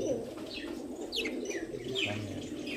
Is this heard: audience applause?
no